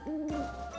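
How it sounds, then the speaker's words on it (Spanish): A single short owl hoot sounds close and clear, a brief tonal call that fades quickly. "Amigos, vamos a hacer juntos el sonido del búho."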